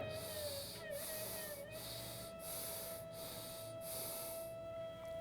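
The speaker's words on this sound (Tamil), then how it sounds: "முதல்ல 3 முறை மூச்சை உள்ளெழுத்து மூச்சு வெளியே விடுங்க" A seated yoga practitioner takes slow, deep breaths in and out. Around six soft, airy breath sounds come close and evenly spaced over a steady faint hum.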